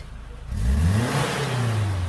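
Suzuki Jimny, a former racing unit after a full engine rebuild and returned to stock, revving hard from idle; a loud, rising engine roar kicks in after half a second and holds steady, close by with no talk.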